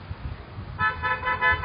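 Several car horns honk in a short burst of overlapping toots, coming in sharply after a brief stretch of low rumbling.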